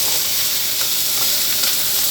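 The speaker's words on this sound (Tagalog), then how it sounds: "Tapos, igisa ko na po yung aking fishball" Fish balls sautéing in a pan with garlic and shallot, a steady close sizzle and hiss of frying with faint stirring scrapes, heard alone.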